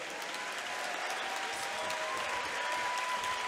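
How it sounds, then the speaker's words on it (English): Steady crowd applause fills an MMA cage event after a fight, a continuous even roar of many hands clapping with faint cheering, held at a constant level throughout. "a big round of applause, please, for both of the fighters in this cage"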